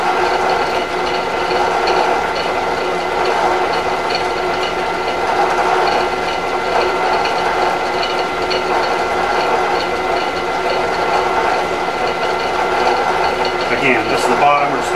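An Albrecht drill chuck on a Bridgeport mill is tightened with a continuous mechanical ratcheting and grinding whir, steady and loud throughout, with a brief clatter near the end.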